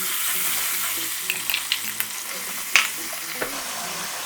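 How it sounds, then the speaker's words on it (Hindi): Garlic and ginger paste fries in a pan with a steady, close sizzle, broken by a few light clinks and scrapes of stirring. "अब हम इसमें सबसे पहले जो शामिल करेंगे वो है हमारा लहसुन अदरक, ताकि हम इसको फ्राई कर लें अच्छी तरीके से"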